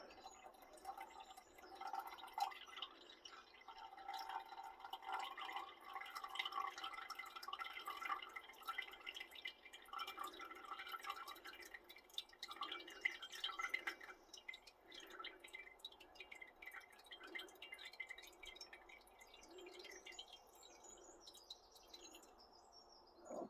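Liquid from an e-waste chemical solution being poured off: a faint, continuous trickling and dripping that runs throughout and fades near the end.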